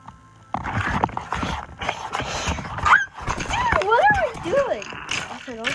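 A Minecraft horse gives several whinnying, neighing calls with rising and falling pitch, mixed with clopping and scraping under overlapping talk from players.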